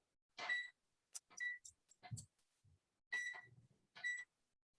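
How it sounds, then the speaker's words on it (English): A kitchen timer set for an hour while a flan bakes in a water bath gives a series of short, bright electronic beeps in separate bursts, some quick and some spaced apart, close and clear over a quiet room. "now we set the timer for an hour"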